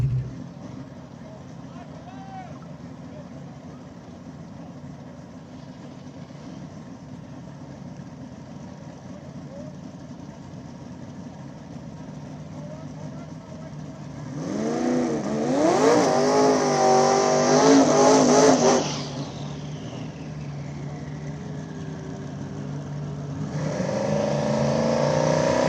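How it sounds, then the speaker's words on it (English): Small-tire drag race cars at an Ohio track's semifinals rev and accelerate, a loud engine roar swelling past mid-clip then cutting off, with a second burst near the end over steady background rumble and a voice talking. "it's going to be some fast cars coming by this round"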